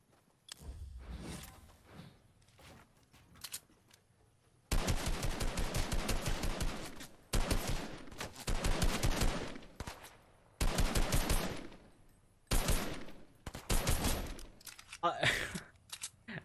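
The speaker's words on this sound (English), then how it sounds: "he was shooting at someone" A bot firing in the video game Fortnite: several loud bursts of rapid automatic gunfire separated by short quiet gaps, with a few softer shots near the start.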